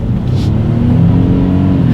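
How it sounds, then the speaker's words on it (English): 2018 Ford F-150 pickup with a 3.5-liter EcoBoost V6 accelerating hard, a steady low engine roar heard from inside the cab with no talking. "let's do a quick little acceleration, see how quickly we can get the new 2018 F-150 here up to speed"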